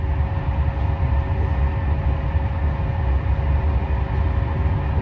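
Steady low rumble of a train interior as it pulls out of Marseille on a hot day, a continuous dense drone with faint tonal hum and no voices, holding even loudness throughout.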